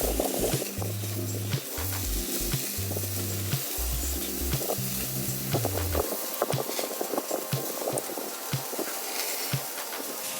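Bacon-wrapped appetizers sizzle and crackle on a grill, with a steady hiss and scattered pops. Low hum and rumble sit underneath for the first half, then fade, leaving the sputtering grease more exposed.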